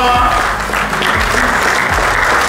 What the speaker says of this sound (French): je voudrais que vous vous levez pour applaudir Sa Majesté